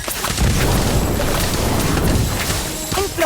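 A loud, sustained fiery whoosh and boom of the Incendio fire spell in Harry Potter: Magic Awakened, a roaring burst filling the whole moment with crackling edges.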